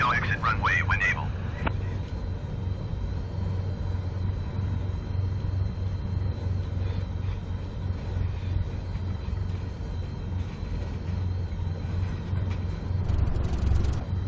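A Cessna 172 light aircraft rolls out after a short field landing in stormy weather, with a steady droning engine rumble throughout, close and continuous, and radio voices and talk over it.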